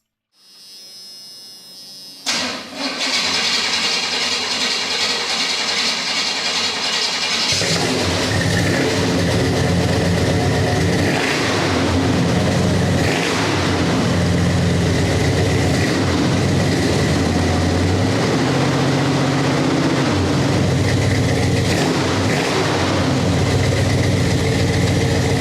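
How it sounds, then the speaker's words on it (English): A pickup truck's stock exhaust before modification, engine starting and settling into a steady, loud, close idle with a deep rumble and a few light revs, no talking. "I took a quick clip of what the exhaust sounds like right now"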